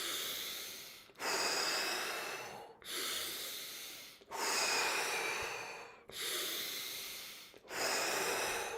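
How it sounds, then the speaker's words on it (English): Deep, forceful Tummo breaths repeat close up in a steady rhythm, each long rushing inhale or exhale lasting about a second and a half before a brief break. "one more round of Tummo, and then we do one more round of 10 times breathing"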